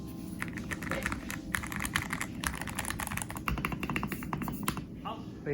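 Rapid typing on a Ducky One 3 Mini mechanical keyboard fitted with Orange dampening, a dense run of soft, muted key clacks up close, with a voice talking quietly underneath.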